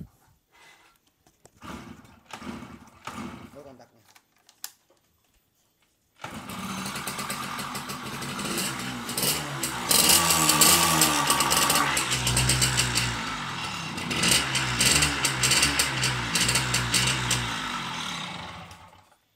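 A few faint knocks and clatters, then an old motorcycle engine kicks into life and keeps running with a loud, uneven rattling idle.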